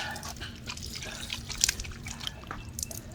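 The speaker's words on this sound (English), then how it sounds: "And here is a probably natural spring water." Natural spring water near a temple in Alibaug drips and trickles softly, a faint steady wet patter with a few sharper drops standing out.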